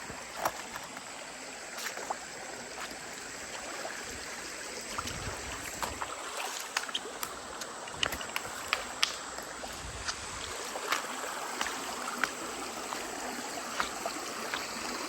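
Water flows and trickles continuously over flat rocks in a creek in Dixie, West Virginia, with soft splashes, a steady outdoor babble at moderate distance.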